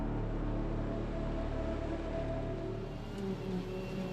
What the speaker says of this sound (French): Le puissant moteur MAN est le cœur de la Big X 700, Big X 850 et Big X 1100.